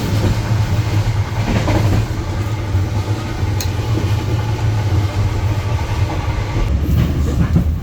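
The KA Rajabasa passenger train rolls along rails on the way to Kertapati station in Palembang, a loud, continuous rumble with steady wheel clatter, heard from inside the carriage with no talk.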